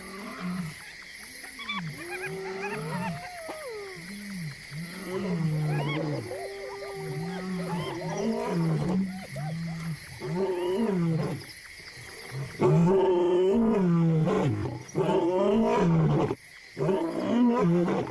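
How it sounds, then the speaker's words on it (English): Several male lions roar at night in the Luangwa Valley, with deep, loud, repeated roaring bouts and grunting phrases that swell and fade across the stretch, close and dominant with no talk. "The males roar more enthusiastically at night, and their declaration carries 5 miles along the Luangwa Valley."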